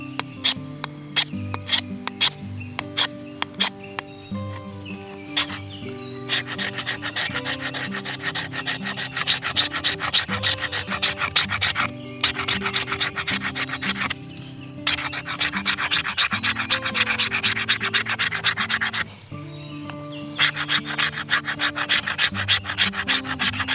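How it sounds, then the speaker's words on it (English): A Lon Humphrey Delta blade scraping wood in repeated dry, rasping strokes, bursts of rhythmic rubbing separated by brief pauses, close and fairly loud with no voices. "Let's see how it does with just scraping."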